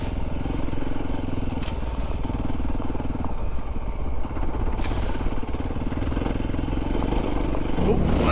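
A Voge 300 Rally motorcycle on Michelin Tracker tyres rides steadily over loose gravel on an off-road trail, its engine droning with constant crunching and clatter beneath, and a voice talks over it.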